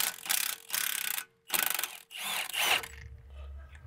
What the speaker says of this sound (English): we're gonna take our 18 millimeter socket on the impact and just blast this bolt